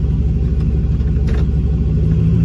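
A turbocharged LS-swapped Caravan engine runs loudly at idle or steady speed, giving a constant deep rumble that fills the space with no pauses or clear revs.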